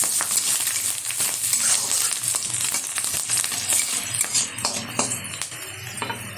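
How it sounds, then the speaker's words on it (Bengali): Whole garlic, green chilies and turmeric powder being stirred as they fry in oil: a moderate sizzle under frequent scraping and clinking of a utensil against the pan, close by. "একটু নেড়ে চেড়ে নেব।"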